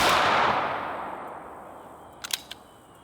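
A Sig Legion P226 or HK USP Expert pistol fires: a loud, close report rings out and slowly decays, then a quick burst of three sharp, fainter cracks follows near the end.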